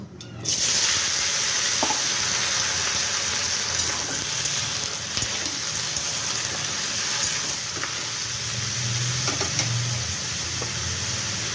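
Pieces of bottle gourd hit a hot pan with a sudden loud sizzle, which settles into a steady, close frying hiss with light stirring scrapes.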